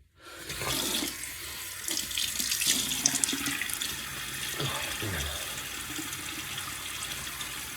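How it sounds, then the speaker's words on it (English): A bathroom tap runs steadily into a sink for several seconds while someone wets their face before a shave, the rushing water close and constant with small splashes. "let me get my face wet"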